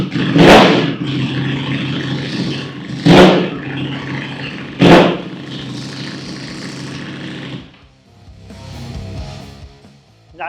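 A 2023 Ducati Panigale V4 fitted with an Akrapovic exhaust is started and revved: three loud, sharp throttle blips close by, each settling into a rumbling idle, then the engine fades away.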